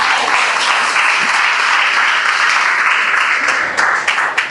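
A congregation claps together for the olive tree, a dense, sustained round of applause that fills the whole stretch at close range and thins slightly near the end.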